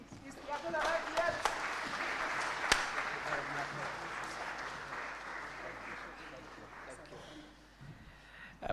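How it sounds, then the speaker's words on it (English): A large audience claps continuously in a university hall in Nairobi to welcome Kenya's Deputy President at a job fair, a dense and steady wash of applause with a few sharper individual claps and faint voices mixed in. "Keep clapping."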